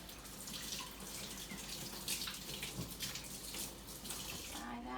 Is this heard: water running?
yes